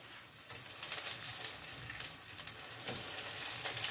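Prawns frying in hot oil with two garlic cloves, a steady bright sizzle with crackling spits throughout, close and alone without talk.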